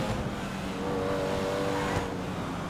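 A sports car engine in GTA 5 Online revs steadily at a high pitch, a continuous loud drone up close.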